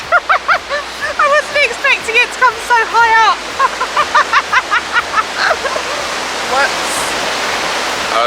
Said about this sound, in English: Water's coming in.